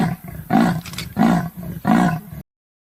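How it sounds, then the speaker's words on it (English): A leopard gives three loud, rasping roars in steady succession, each about half a second long, with a harsh throaty texture and no voices around it. "Leopard."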